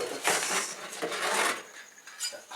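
Stainless steel spoons, including large serving spoons, clink and rattle against each other as they are handled, in a few bright metallic bursts heard close up with no talking.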